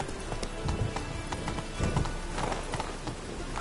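Horse hooves clip-clop steadily at a running pace in a video game, a rhythmic patter of hoofbeats with a faint whinny and some background game noise.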